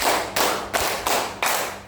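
A group clapping in unison during a counting clap game at a teachers' workshop session, four or five loud, broad group claps spaced evenly about a third of a second apart, each decaying into room reverb.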